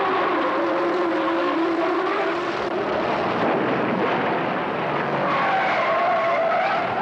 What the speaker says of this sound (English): Jackie Oliver just blew the guts out of his Ford in the third turn, spun all the way around through 4, and careened off the wall.